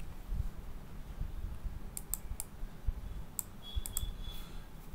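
A few light, quick keystrokes on a computer keyboard while drafting in AutoCAD, soft clicks in small clusters over a low steady room hum.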